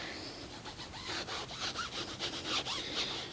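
Mastersons tire and trim shine is rubbed onto a vehicle tire with an applicator, giving a steady, close scrubbing of quick back-and-forth strokes that runs without pause and without any voice.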